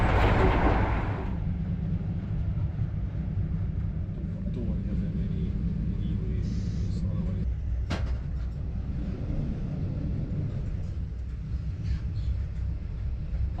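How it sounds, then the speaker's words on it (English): Inside the front luggage compartment of an ageing HST power car, a steady, loud rumble and rattle from the bogies runs throughout, with occasional clanks and a sharp bump partway through, under a man's speech. "it is very noisy and bumpy up here at the front over the bogies"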